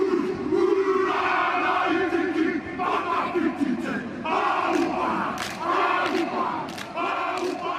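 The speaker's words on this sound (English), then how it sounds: "like a dance presentation, that they used to do in battles against other people" A Maori war dance performed by a group, with loud rhythmic chanted shouts and stamping thuds carrying steadily throughout.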